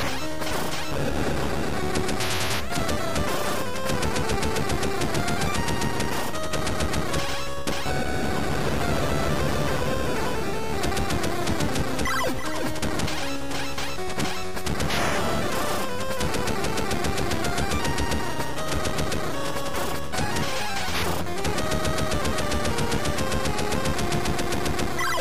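Rapid electronic gunfire from the Game Boy game Operation C chatters in dense, continuous bursts alongside busy chiptune music and crashing hit effects, loud and unbroken, with no voices.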